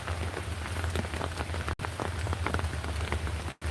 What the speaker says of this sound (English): Right now it's raining,